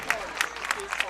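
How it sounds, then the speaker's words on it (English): Applause from a crowd at a 10U youth baseball state championship game, a short burst of clapping with a voice speaking over it. "let's give them another round of applause"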